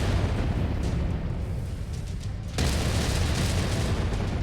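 A nuclear explosion in the video game MechWarrior 5, a dense, sustained roaring rumble that swells suddenly partway through and keeps booming loudly.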